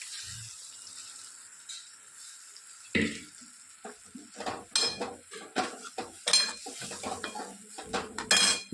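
Boiled mung beans going into masala in a cooking pot, with metal clinks of a spoon against the pot, scraping and wet stirring sounds, close and irregular, no talking.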